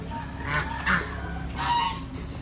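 Several honking domestic geese call in short bursts, moderately close, with a few loud honks standing out over steady background noise, in the Philippines.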